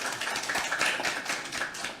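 Audience applause at a parliamentary forum, a steady spatter of hand claps from a seated crowd, moderately quiet and sustained for a couple of seconds without talk.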